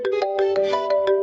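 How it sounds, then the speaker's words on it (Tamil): A mobile phone ringtone plays a quick, bright repeating melody of short electronic tones in a steady pulse, clear and fairly loud in a domestic scene from a Tamil TV serial. "உன் போன் ரிங்டோன் மாத்திட்டியா?"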